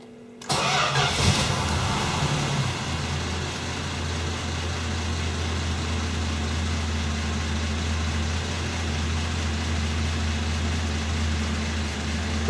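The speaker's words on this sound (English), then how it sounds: "just running it at a slow idle" A car engine starts and then settles into a steady, slow idle during an oil pressure check after a cheap oil filter was fitted, a constant low hum with a faint whine, close and continuous without talk.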